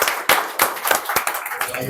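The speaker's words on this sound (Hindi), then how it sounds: "जोरदार तालियां" Rhythmic clapping from a corporate leadership event audience welcomes a guest onto the stage, with distinct sharp hand claps standing out above a lighter spread of applause.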